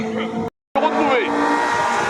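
A Honda Civic race car idles and revs on the start line of the Orbec hill climb, its engine tone rising under a commentator's voice, with a brief cut of silence near the start.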